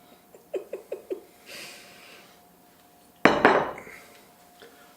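Ceramic bowls clink and clatter on a table as they are mixed up: a quick run of four or five light taps, a soft shuffle, then one loud scraping clatter that rings briefly, all close by.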